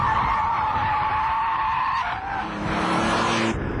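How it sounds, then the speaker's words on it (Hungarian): Car understeering through a curve with the front sliding wide, tires squealing continuously over a loud engine roar, close and sustained with a pitch shift toward the end. "az autónak az orra csúszik kifelé az ívről, ezt hívják alulkormányzottságnak, tehát nem megpördül, hanem orral kifelé sodródik"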